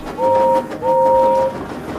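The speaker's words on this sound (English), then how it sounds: "and Thomas in return always whistles" Two long, steady whistle blasts, a short one then a longer one, sounding clearly over a low rumbling background.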